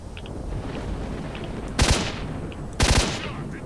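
Two short bursts of automatic enemy gunfire in S.T.A.L.K.E.R.: Shadow of Chernobyl, each a sharp cracking volley about a second apart, set against a low ambient rumble with no talk.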